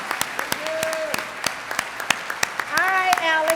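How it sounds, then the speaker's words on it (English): Gala audience at an anniversary celebration breaks into applause, sharp individual claps spread through the crowd with voices calling out and someone speaking over the clapping, swelling louder toward the end. "Give yourself a round of applause."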